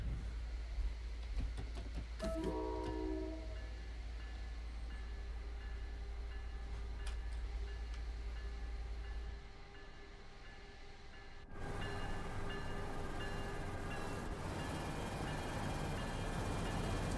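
Train rumbling steadily across a bridge in the Train Sim World 6 railway simulator, a continuous low heavy drone with faint rhythmic rail clatter, briefly dropping lower before swelling back to a loud, close passage.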